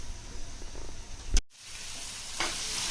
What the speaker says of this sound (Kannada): ನೋಡಿ, ಚೆನ್ನಾಗಿ ಫ್ರೈ ಆಗ್ತಾ ಇದೆ.